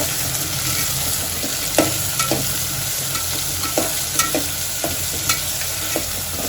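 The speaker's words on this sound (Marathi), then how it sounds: "आता यात मी टमाटे घालून घेते या सर्वांना एकत्र परतून घेते" Tomatoes and onions sauté together in a pan for a Goan-style prawn pulao, a steady sizzle broken by a dozen or so sharp scraping stirs of a spatula against the pan, close and fairly loud with no talk.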